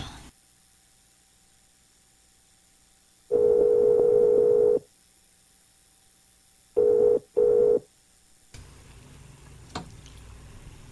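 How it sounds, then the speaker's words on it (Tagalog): A telephone call is placed and rings out: a steady ringback tone sounds once for over a second, then twice in quick short bursts, separated by silence, before a faint click and low background noise. "Ako tawagan si Bay Amaro"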